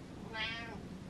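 A cat gives a single soft, drawn-out meow indoors, rising and then falling over about half a second, faint and close, with no other voices.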